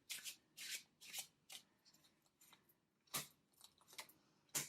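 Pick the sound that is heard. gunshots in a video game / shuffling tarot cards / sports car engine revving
shuffling tarot cards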